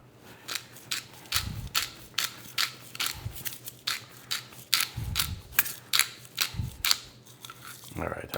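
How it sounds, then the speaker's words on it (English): Pepper mill grinding freshly cracked black pepper over chicken, a rapid series of close, sharp ratcheting clicks and crunches in bursts with brief pauses between twists, with no talk. "I'm using some freshly cracked black pepper."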